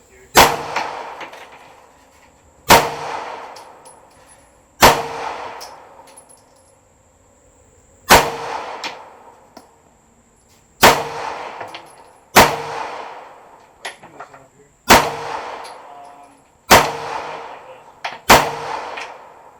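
Pistol shots fired at targets while comparing iron sights, a green dot and a laser: about nine sharp, loud reports spaced roughly two seconds apart, each followed by a metallic ring and brief decay, with no talking between.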